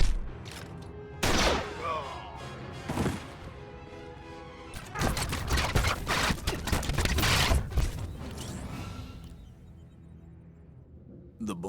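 Blaster fire from the Star Wars: The Old Republic video game erupts in rapid bursts of shots and impacts, loud and close, with a quieter stretch between volleys and fading toward the end.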